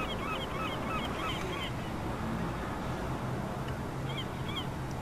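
Birds honk repeatedly through the ambient soundscape of Gibraltar airport in Microsoft Flight Simulator X, with bursts of calls early on and again near the end, set over a steady low rumble of idling Airbus A320 engines.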